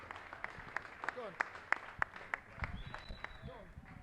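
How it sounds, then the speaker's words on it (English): Scattered clapping and cheering from a small audience at a poker final table in Vegas, sharp individual claps over a room murmur, with voices talking underneath. "Everybody, give them a cheer."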